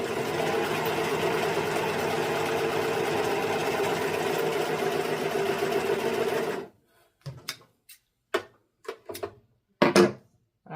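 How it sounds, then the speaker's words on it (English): A sewing machine runs steadily and loudly for several seconds, then stops, followed by scattered short clicks and handling noises. "I feel like this is perfect for the sewing machine."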